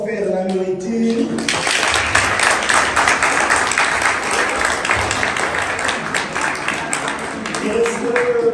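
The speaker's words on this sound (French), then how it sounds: "Est-ce qu'on peut applaudir à ceux qui nous ont offert la nourriture?" Applause rises sharply after a brief spoken question and continues as steady, dense clapping from a large group at a Black History Month closing event at a school, with voices mixed in near the end.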